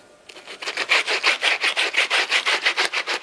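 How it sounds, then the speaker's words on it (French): A crepe brush worked back and forth over the suede leather of Birkenstock sandals, giving a steady rhythmic scrubbing of about a dozen close, even strokes with no voices. "Vous pouvez éventuellement compléter ce travail avec une brosse en crêpe, là encore spécifique au cuir velours."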